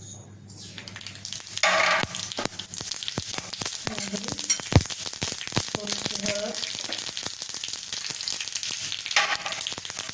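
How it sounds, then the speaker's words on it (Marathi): Mustard seeds sizzling in one teaspoon of hot oil in a kadhai, a dense crackle of sharp pops and spits over a continuous hiss, close and fairly loud throughout. "ते चांगलं तापलं की मोहरी घालूया त्याच्यात"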